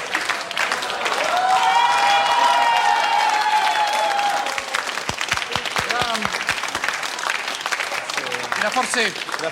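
A theatre audience at a comedy show breaks into loud, dense applause for a few seconds. It then thins out as a voice speaks over the last scattered claps.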